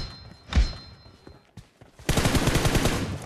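Rapid automatic gunfire in the mobile shooter BGMI during a team deathmatch: a single thud, then a loud, sustained burst of dense repeated shots near the end, with no talk.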